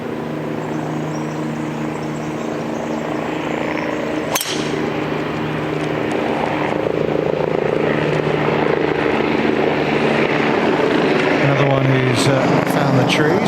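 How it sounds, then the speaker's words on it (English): A helicopter flies overhead at a golf tournament, a loud sustained rotor and engine roar that swells and stays strong throughout, with a commentator talking over it. "I recognise that chopper from our hotel."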